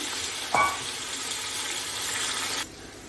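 Tomatoes dropped into hot oil with fried whole spices, cloves, cumin and curry leaves, for aloo pulao, giving a brief louder sizzle burst over a steady frying hiss that cuts off abruptly near the end.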